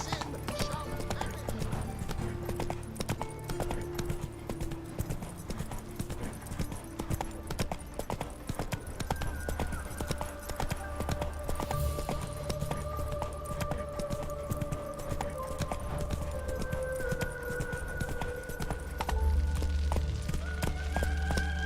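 A horse gallops in The Witcher 3 video game, its hooves clip-clopping in a steady, rapid rhythm beneath background music, with a person talking over it.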